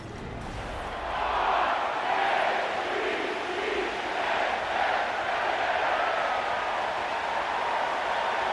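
A large stadium crowd roars and cheers steadily in a football video game, Chiefs against Ravens, a dense, sustained wash of distant voices at even loudness throughout.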